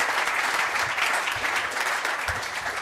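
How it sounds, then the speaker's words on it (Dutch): Steady applause from an audience at a club event in Rotterdam fills the whole span, a dense even wash of clapping with no break. "ik wil graag even een davend applaus voor Dennis de Redelijkheid"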